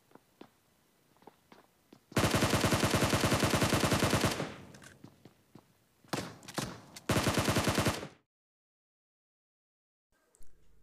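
Revolver gunfire in the video game PUBG Mobile comes as loud, close, rapid bursts: a long sustained volley, a couple of short shots, then another burst before sudden silence.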